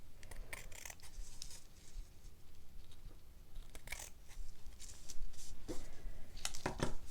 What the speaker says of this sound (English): So now all I want to do is match up the sides and cut those little notches.